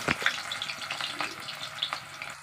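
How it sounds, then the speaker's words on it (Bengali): Potato pieces fry in hot oil in a home kitchen pan, a close, steady crackling sizzle with scattered sharp pops and spatters throughout. "এই দেখুন আলুগুলো ভাজা হচ্ছে"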